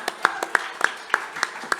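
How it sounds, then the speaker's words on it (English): A small studio audience gives a brief round of applause for guests on a grand final eve FanCast panel show, a sparse handful of distinct claps spaced out over under two seconds. "Give them a round of applause, guys."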